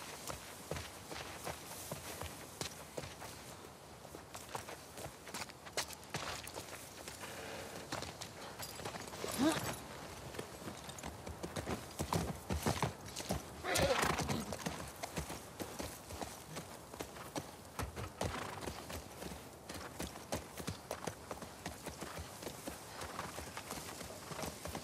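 Horse hooves clip-clop at a riding pace through The Last of Us Part II, a continuous, moderately close rhythm of hoofbeats with faint voices now and then.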